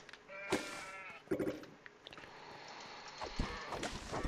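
Two short, nasal sheep bleats in the video game Craftopia stand out over soft clicks and rustles, followed by scattered light tapping sounds.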